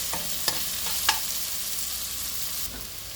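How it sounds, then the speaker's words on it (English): Onions frying in a pan for karela (bitter gourd) sabji, a soft continuous sizzle with a couple of sharp spoon knocks early on, close and fairly quiet, no speech. "we just want to cook for around 2 to 3 minutes to just see the translucent color of the onions"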